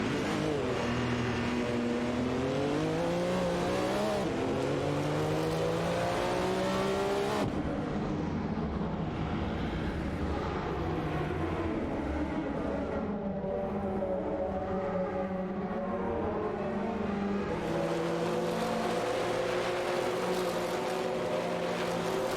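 Race car engines, including a Sauber C9, roar through gear changes in the Live for Speed racing game, pitch sweeping up and down in continuous loud revving with no pauses.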